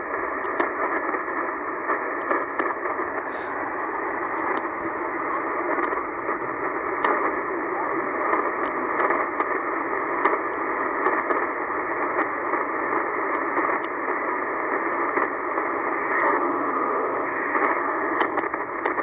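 A faint voice is buried in dense, steady shortwave radio static around 12754 kHz, hissing continuously throughout, received outdoors in a park.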